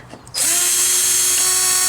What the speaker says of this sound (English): I'm using my drill today instead of a screwdriver.